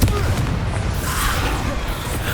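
Confringo fire spell exploding in the video game Hogwarts Legacy, a dense, loud, rumbling blast that fills the whole short span with continuous booming noise.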